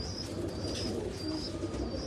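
A large pigeon coos softly on a Karachi rooftop, repeated low cooing over a steady outdoor background with faint chirps, fairly close and without talk.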